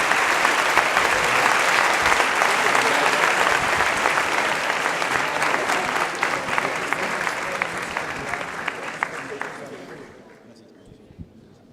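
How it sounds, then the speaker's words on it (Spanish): An audience at a book fair panel discussion on post-truth applauds the panelists with a full, loud round of clapping that holds steady, then fades out over the last couple of seconds, with some voices mixed in. "un aplauso por favor a los panelistas"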